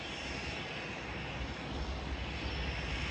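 A Seair seaplane's engine drones steadily in Victoria harbour, British Columbia, a loud, continuous broadband roar that holds even throughout with no voices over it.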